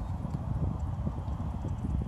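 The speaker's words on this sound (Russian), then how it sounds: "Позвал своих лошадей. Смотрите, что лошади делают." Horses running toward a caller on open ground, hooves drumming in quick, uneven clip-clop beats at moderate distance, steady over a short stretch with no speech.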